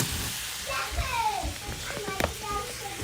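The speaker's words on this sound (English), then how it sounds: "So we got onions, we got our smoked sausage, our garlic's in here. So we gotta let it saute." Onions, smoked sausage and garlic saute in a pan with a soft steady sizzle, partly masked by children's voices and talking nearby.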